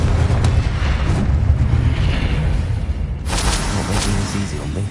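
A Confringo fire spell bursts in Hogwarts Legacy, a dense booming blast with a rumbling low end that swells again midway into a second loud crackling burst, continuous and close.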